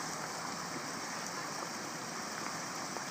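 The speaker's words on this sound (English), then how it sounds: "Chill little waterfalls." Small waterfalls flow continuously, a steady hissing rush of falling water heard alone and evenly throughout.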